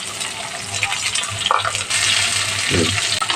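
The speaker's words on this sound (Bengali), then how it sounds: "পেঁয়াজটাকে একটু লাল করে ভেজে নিয়েছি এখন দিয়ে দেব কেটে রাখা কাঁচামরিচ" Chopped green chilies hit oil with onions fried until reddish-brown, a loud close sizzle with stirring scrapes and a sharper burst of frying partway through, for a sweet pumpkin bhaji.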